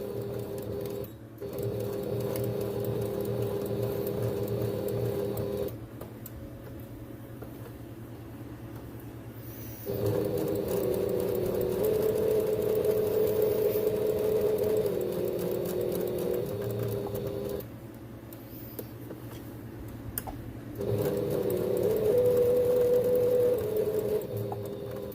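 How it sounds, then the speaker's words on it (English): A sewing machine stitches a fabric face mask with a clear window. The motor whirs steadily in several long runs, broken by short pauses, close and moderately loud with no talking. "now I'll move over to the sewing machine and show you how to put this together"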